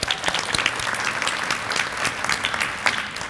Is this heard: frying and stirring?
no